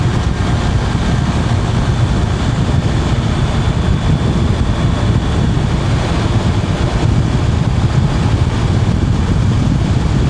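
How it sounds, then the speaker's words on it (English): Wind roaring against a helmet microphone while riding a BMW GS Adventure motorcycle; loud, constant low buffeting that fills the whole stretch with no break. "Lots of wind here."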